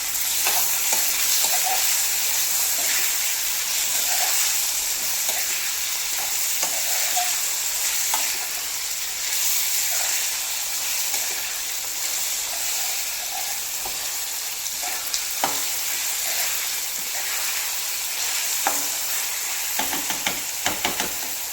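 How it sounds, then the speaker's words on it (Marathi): Chopped goat liver sizzling and frying steadily in a hot pan on high flame, with a spatula stirring and scraping at intervals; close and continuous, with no talk. "आता हे व्यवस्थित मिक्स करून घ्यायचं"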